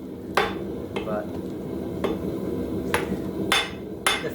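A hammer forges steel on a wobbling anvil, its sharp metallic blows ringing out about six times at uneven intervals over a low background hum.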